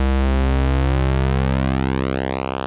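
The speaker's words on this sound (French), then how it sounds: "on peut faire varier le rapport cyclique de notre carré avec le potard qui est en dessous là" A KORG MS-20 synthesizer holds a steady, loud square-wave tone while its duty cycle is swept by a knob, so the buzzy timbre shifts continuously from hollow to thin and pinched with no other sound present.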